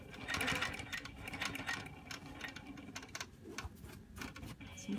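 A longarm quilting machine stitches along the wavy border of a quilt, its needle chattering in quick, uneven bursts close by with short pauses between runs.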